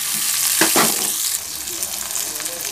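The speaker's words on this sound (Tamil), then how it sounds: "எல்லாத்தையும் போட்டு நல்லா மிக்ஸ் பண்ணிக்கோங்க." Black pepper and cumin being stirred in hot oil in a frying pan for a vallarai leaf recipe, a loud steady sizzle with scraping stir strokes early on, no voices.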